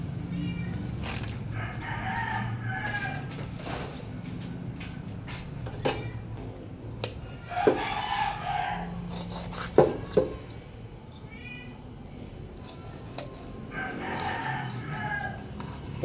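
Backyard chickens with a rooster crowing several times among scattered clucks, the crows rising clearly over a quiet outdoor background with occasional clinks and knocks.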